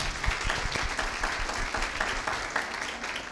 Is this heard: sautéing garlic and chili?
no